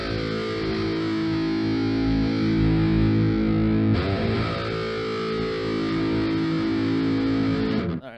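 Electric guitar played through a Mercuriall Ampbox amp simulator with an impulse response, heavily distorted sustained chords ringing loudly, with a brief change near the middle before resuming and cutting off at the end.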